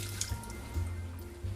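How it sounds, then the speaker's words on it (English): Water poured from a stainless steel pan into a kitchen sink, a few close, soft splashes and drips with gurgling between them. "I'm gonna dump the water in the sink."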